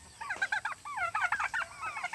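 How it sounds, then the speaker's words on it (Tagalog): Several turkeys give a run of close, overlapping gobbling and honking calls in bursts, loud and continuous against the farmyard background, with no talk in the clip. "Kayo mga turkey, gutom na?"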